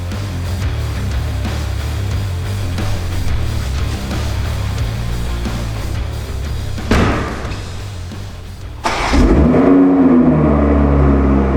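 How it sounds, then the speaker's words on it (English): A Toyota A90 Supra fitted with an AWE aftermarket exhaust, heard after garage thumps and clunks as the engine fires up late and settles into a low, steady idle. "Now that the exhaust is complete, let's lower the car and hear how it sounds."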